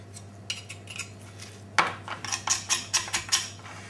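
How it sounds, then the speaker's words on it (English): A knife scrapes lamb bones clean in a steady run of short, bright, rasping strokes that come in a quickening rhythm close up. "we're scraping the bones down here now like that"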